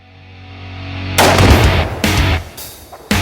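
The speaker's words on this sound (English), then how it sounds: "Well, JT, I think we just blew up something." A clothes dryer blown apart by an explosive charge bursts with a loud, sudden boom, followed by a rumbling roar and further sharp blasts within a few seconds, heard alone without voices.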